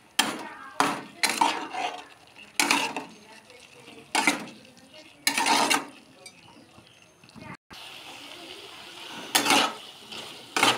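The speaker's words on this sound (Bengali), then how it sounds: "পোস্তটা দিয়ে খুব ভালো করে নাড়াচাড়া করে নেব" A utensil repeatedly scraping and clinking against a pan while stirring potatoes with poppy seed paste for Bengali aloo posto, in close uneven bursts with short pauses between strokes.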